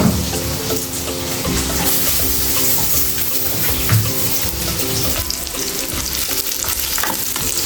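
Onions frying in a pan for adobong shrimp produce a loud, constant, close sizzle with a low steady hum underneath and a few faint stirring scrapes, without any talking.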